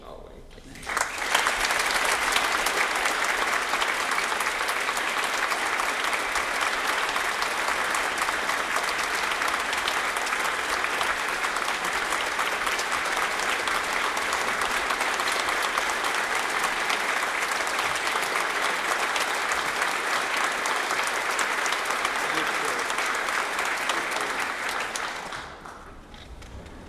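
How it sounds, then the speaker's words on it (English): Sustained audience applause for poet Galway Kinnell at a poetry celebration, dense and steady clapping rising quickly and holding for over twenty seconds before tapering off. "let's give a great heartfelt applause to Galway Kinnell"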